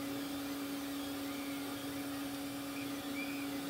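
A 3D printer printing a small whoop drone canopy, two perimeters and no infill, gives a steady, close whirring hum with a constant tone that runs without a break, with faint higher stepper-motor squeals near the end.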